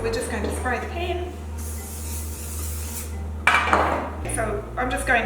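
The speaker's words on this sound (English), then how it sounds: "Okay, so we're just going to spray the pan." A baking pan is sprayed with cooking spray while preparing brioche sliders in a kitchen, two short hissing spray bursts with pan clinks, heard over a low steady hum and some speech.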